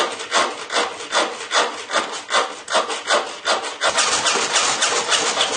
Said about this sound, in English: we'll try the Stanley HSS hacksaw just to see if that.